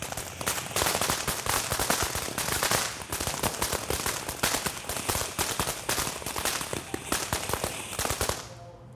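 A rapid, dense string of firework bangs and crackles, loud and continuous for about eight seconds before cutting off.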